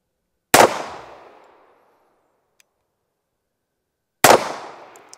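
Two loud, sharp shots from a well-worn MEUSOC .45 pistol, a few seconds apart, each ringing out and fading into silence.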